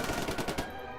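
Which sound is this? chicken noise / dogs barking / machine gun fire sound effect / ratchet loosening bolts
machine gun fire sound effect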